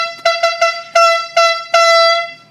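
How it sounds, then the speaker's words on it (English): A handheld air horn gives several short loud blasts followed by a longer sustained blast, sharp and close, with no talk. "This is the air horn."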